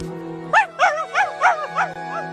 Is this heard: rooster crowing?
no